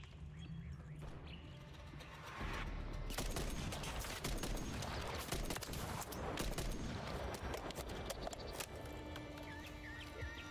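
In a video game, an aftermarket-part JAK Volkh weapon fires in a dense, continuous stream of gunshots that overlap into a steady loud barrage, with no voices over it.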